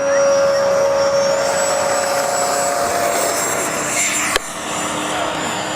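FMS Rafale 64mm electric ducted-fan RC model jet taking off, a loud continuous high-pitched whine that stays steady and close throughout with no talk.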